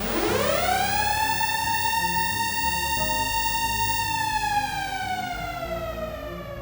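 A loud slaughterhouse alarm siren rises quickly to a steady, sustained wail and holds for several seconds, slowly easing lower toward the end.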